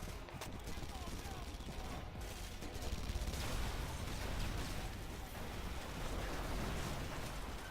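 Dense, continuous rumbling blasts and crackling bursts fill the whole stretch, loud and chaotic like rapid game explosions layered over each other, from the video game Red Faction Guerrilla.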